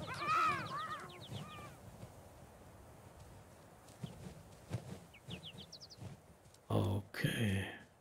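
Crows caw in the video game Garden Witch Life: light chirping bird calls come first, then two loud, harsh caws close together near the end.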